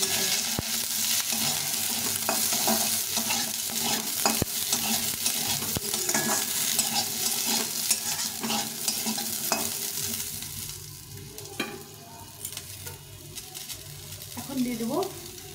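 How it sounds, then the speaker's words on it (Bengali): Pointed gourd frying in hot oil with black cumin seeds, a steady loud sizzle with repeated scrapes and knocks of a spatula stirring in the pan, no talking. "কালো জিরেটা একটু ভেজে নিয়ে এর মধ্যে পটলটা দিয়ে দেবো, দিয়ে এটাকে ভালো করে ভেজে নিতে হবে"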